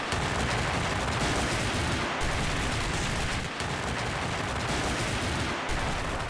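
Strings of New Year firecrackers burst in a dense, unbroken crackle, loud and close, with rapid overlapping pops and brief pauses between volleys.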